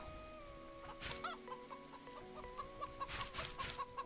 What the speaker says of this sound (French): Elles produisent pas mal, mes petites poules.